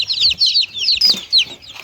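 Silver Laced Wyandotte hens and their chicks on a farm give close, fairly loud high-pitched peeps and short clucks in quick overlapping bursts.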